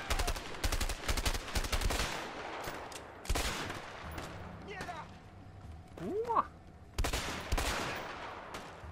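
Rapid gunfire in A Way Out: repeated bursts of close, loud shots in clusters, with brief pauses between volleys and some whooshing ricochet-like sweeps in the lull. A voice speaks during the shooting.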